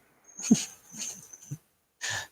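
Dog Kaiser gives a few short, close whimpers and wheezy breathy whines in quick bursts, separated by brief silences, with no talking over them.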